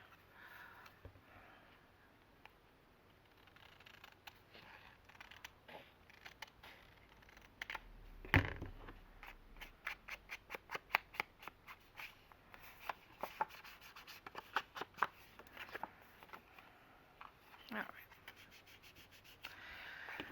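Paper trimmed with scissors at a craft table, a run of crisp snips and rubbing paper handling, close and fairly quiet with no talking.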